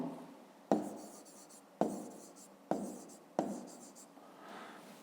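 Pen or pencil writing numbers by hand on paper, a series of four scratchy strokes, each starting with a sharp tap and trailing off, close and fairly quiet with no talking.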